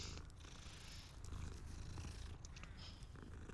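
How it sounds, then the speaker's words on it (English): A cat purrs while being petted in the video game Hogwarts Legacy, a low continuous rumbling purr, close and fairly quiet, with faint higher game ambience over it. "I'm petting the cat again."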